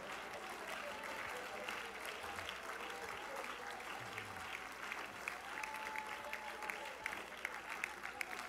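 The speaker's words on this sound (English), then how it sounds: "clap your hands to the Lord and give him praise right now" A church congregation claps and praises together, a dense, continuous wash of many hands heard at a distance, with voices mixed in throughout.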